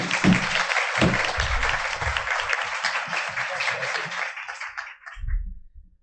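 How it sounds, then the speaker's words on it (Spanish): An audience at a panel discussion with teachers applauds in a steady, dense wash of clapping that holds for several seconds and then cuts off, with low murmuring and movement underneath and a brief low thump after it stops. "Un aplauso, por favor."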